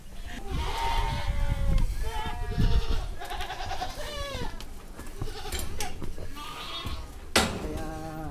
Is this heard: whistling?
no